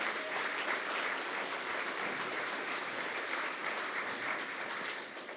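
Audience applause at an eloquence tournament evening, a dense, steady clapping from a crowd that holds evenly throughout and tapers slightly at the very end.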